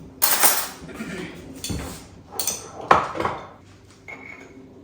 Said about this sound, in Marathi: बना बनाना आणि हनी याला छान असं मिक्स करून घेते मी